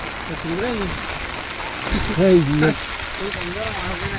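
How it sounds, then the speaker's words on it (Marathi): A steady wash of heavy rain hisses throughout while a person talks over it, during a fishing outing. "पाऊस पण आले जोरान"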